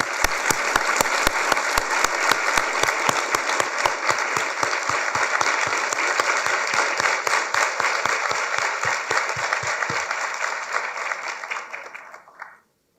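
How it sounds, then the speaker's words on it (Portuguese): A Harvard audience gives a long round of applause for former president Michel Temer, a loud, dense clapping wash with a few sharp individual claps, sustained about ten seconds before tapering off to silence. "uma salva de palmas."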